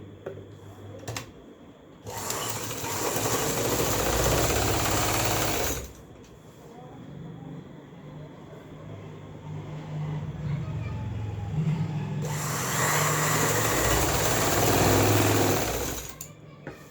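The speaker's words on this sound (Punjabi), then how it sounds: "ਦੂਸਰੀ ਸਾਈਡ ਨੂੰ ਵੀ ਆਪਾਂ ਇਸੇ ਤਰ੍ਹਾਂ ਸਲਾਈ ਕਰਨਾ ਹੈ" Domestic sewing machine stitching the seam of a baby dress, running in two long steady whirring bursts of several seconds each, separated by a quieter pause with low handling noise.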